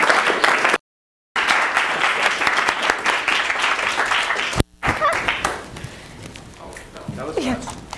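An evening audience applauds to welcome a guest speaker downtown, steady clapping of a room full of people for several seconds, briefly cut off, then fading as a voice begins to speak.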